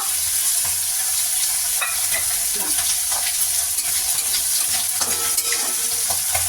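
Nigella seeds (kalo jira) crackle as they are tempered in hot oil in a wok, giving a steady, close frying hiss with scattered small pops throughout and no voices.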